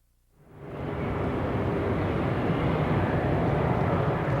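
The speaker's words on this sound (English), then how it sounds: "Planes started taking off from Atlanta's Hartsfield Airport just after noon today." Airplanes take off from Atlanta's Hartsfield Airport, a broad jet engine roar that rises quickly out of quiet and holds steady and loud.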